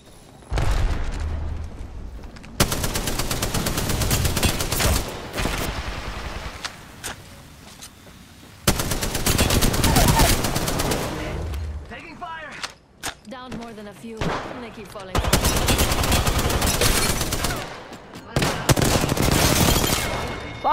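Spitfire light machine gun fire during an Apex Legends squad fight, long sustained bursts of rapid shots broken by short pauses, loud and close, with faint game sounds in the gaps.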